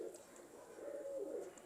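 A Taddy pigeon from a fancier's loft coos softly in low, rolling murmurs, a faint steady hum of cooing that swells slightly midway, with no talk over it.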